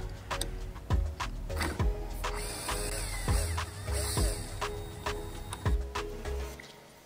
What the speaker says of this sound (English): Pop these bolts out.